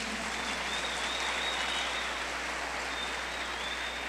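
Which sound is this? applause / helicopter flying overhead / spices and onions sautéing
applause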